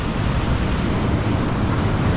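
Strong surf crashes at a beach in La Union as a continuous, loud wash of rough noise, with no voices heard.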